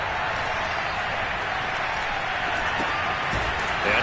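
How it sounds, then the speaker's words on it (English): Stadium crowd noise from the Madden football video game, a loud, continuous roar of massed voices and clapping that holds steady throughout and swells slightly at the end. "this crowd's going to get even louder"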